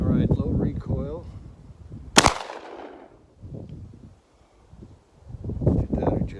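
Remington 1100 shotgun fires a single low recoil shell, one sharp loud blast with a short decaying tail, set between stretches of people talking before and after.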